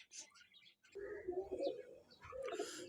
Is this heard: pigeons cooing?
yes